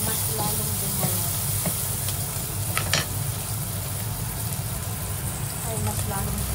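Onions sautéing in a pan for monggo with pork ribs, a dense, steady sizzle with a few light scrapes over a low continuous background hum.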